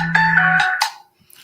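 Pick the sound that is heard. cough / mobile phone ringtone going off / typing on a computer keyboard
mobile phone ringtone going off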